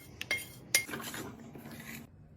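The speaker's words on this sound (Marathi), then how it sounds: "हे आता आपण गुळामध्ये मिक्स करणार आहोत." Roasted gram flour is stirred into melted jaggery in a pan, giving two sharp metallic clinks of a spoon followed by a soft, close scraping stir that stops abruptly.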